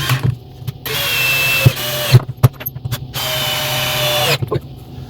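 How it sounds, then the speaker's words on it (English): A power drill drives screws through plywood into baseboards while a dog house is built: two long, loud whirring bursts split by clicks, knocks and brief handling noises, up close. "put some screws in at the base. Make sure those go all the way through the plywood and into those baseboards"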